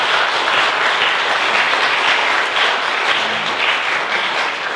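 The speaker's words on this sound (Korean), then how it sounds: "우리 하나님께 영광의 박수 한번 드리겠습니다." Steady, dense applause from a church congregation at a Korean mission's music concert, a full crowd clapping continuously and fairly loud throughout with no talk over it.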